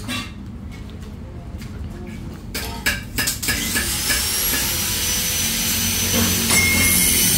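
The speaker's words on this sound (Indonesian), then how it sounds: "Tinggal dimasukin gas bul-bul." Honda CBR1000 sport motorcycle with a racing exhaust revving up to a loud, steady high roar that builds and holds after some quieter clanking at the start.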